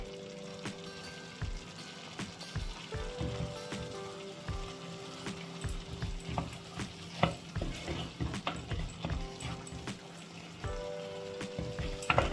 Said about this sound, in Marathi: मी आधी वाटण टाकून घेते. ते छान भाजून घेते. पाहू शकता छान असं भाजतंय.